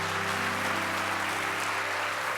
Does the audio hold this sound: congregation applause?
yes